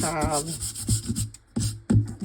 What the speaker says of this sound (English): I'm going to actually sand it so the snowflakes will